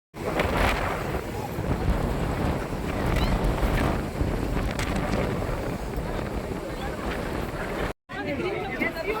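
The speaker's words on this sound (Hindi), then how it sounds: "और इस ऊंचाई में हवा का वेग भी बहुत ही तेज़ था।" Strong wind at height near the statue in Kanyakumari, Tamil Nadu, roaring and buffeting loudly and steadily against the microphone, with faint crowd murmur beneath and a brief cut near the end.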